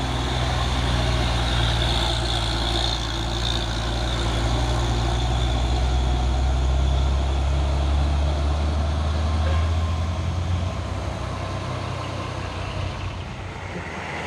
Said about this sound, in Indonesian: Dua unit truk Fuso Oren.